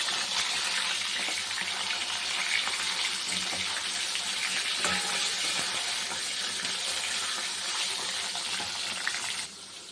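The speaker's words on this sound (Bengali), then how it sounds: "তেল হয়ে গেছে এরকম এক মাছ হয়ে গেছে ভাজা" Steady, loud hissing and sizzling of catla fish pieces, coated in salt and turmeric, frying in hot oil continues without a break, close by, then drops off at the very end.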